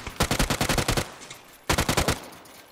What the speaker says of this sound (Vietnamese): Anh Gục bắn em.